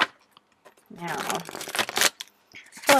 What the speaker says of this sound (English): we're going to give your deck a good shuffle on camera